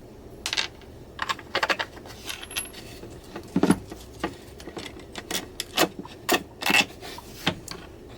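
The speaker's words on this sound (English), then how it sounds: "I'm going to push the bolts through the bottom here, and we'll attach the base." Metallic clicks and clinks of bolts being handled and pushed through the bottom of a wooden circle-cutting jig base, a series of short sharp ticks spaced irregularly then more evenly, close and alone.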